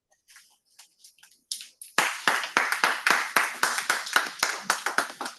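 Meeting audience at a Toastmasters club clapping after a speech, a few scattered claps building into steady rhythmic applause from a small group nearby.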